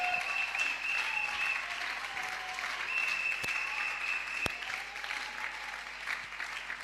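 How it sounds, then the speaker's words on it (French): Church audience clapping steadily and loudly throughout, a dense sustained applause with a couple of sharp louder claps standing out, and faint tones lingering underneath. "Continue to clap, continue to clap."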